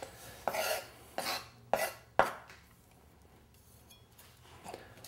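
A kitchen knife chopping onion pieces on a board gives four sharp, close chops in quick succession, followed by quieter scraping and a faint final tap.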